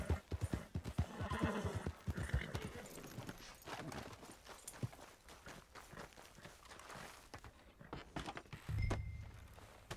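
Steady clip-clop of horse hooves pulling a wagon in the Red Dead Redemption video game, with a whinny and quieter rolling and thumping underneath.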